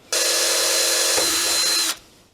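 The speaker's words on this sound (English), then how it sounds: "So doing the holes there, and you can see the whites coming through." A power drill boring a hole in a carbon fiber front splitter for an Audi TTS, one steady high whine lasting nearly two seconds, close and loud, then cutting off abruptly.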